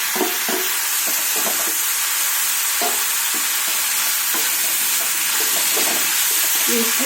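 Vegetable thoran with freshly grated coconut gets stirred in a pan: steady frying hiss runs throughout while a spoon scrapes and turns the mix in repeated irregular strokes, close and fairly loud.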